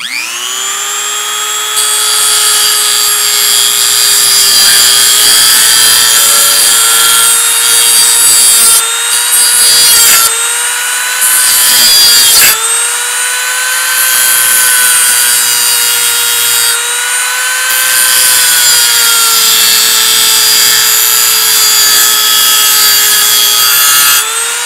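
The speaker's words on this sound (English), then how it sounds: "grab your Dremel, pop it on high speed, and give that a swift cut across the neck part of the fork" A Dremel rotary tool at high speed grinds through the neck of a cheap metal fork, a loud sustained high-pitched whine that bends slightly in pitch as the cut loads, with a few brief dips.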